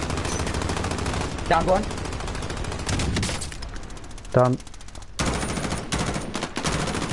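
Rapid automatic gunfire in Call of Duty: Warzone (Modern Warfare) runs loud and nearly continuous in close bursts, while a player's voice speaks briefly over it.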